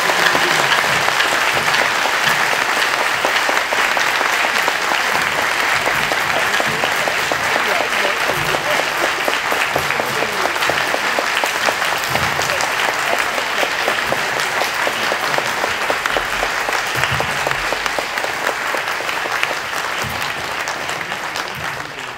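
Warm, loud applause from a church congregation at a Vietnamese Easter Mass welcoming newly baptized members, a dense, even roar of clapping sustained for over twenty seconds, easing slightly near the end.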